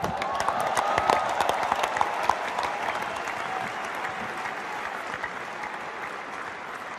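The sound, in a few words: stadium crowd clapping during a farewell speech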